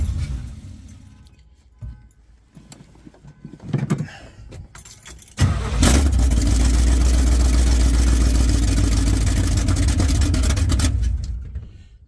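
Keys jingle and clatter briefly, then a car engine with its exhaust removed, after a swap from automatic to manual transmission, starts and idles loudly and steadily nearby before cutting off near the end.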